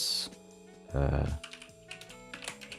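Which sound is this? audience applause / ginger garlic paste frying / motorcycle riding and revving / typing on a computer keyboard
typing on a computer keyboard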